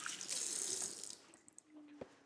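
Hands being washed under a running kitchen tap, water splashing steadily into the sink for about a second and then tapering to a few faint drips and clinks, close by with no talking.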